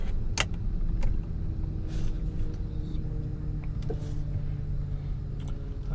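2017 Cadillac Escalade luxury SUV being driven, a steady low cabin rumble of engine and road noise with a few faint clicks and thumps inside the vehicle, no speech.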